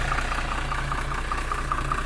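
A large Iveco Cursor 7.5-litre bus engine idles steadily, a low, even rumble with a faint regular ticking pulse running continuously and close by, with no talk over it.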